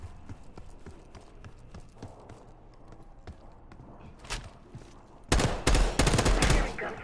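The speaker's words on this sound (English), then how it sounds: "Hearing gunfire?" Gunfire in the Call of Duty Black Ops 6 video game: soft footsteps and scattered muffled shots give way to a sudden loud, sustained burst of rapid automatic fire.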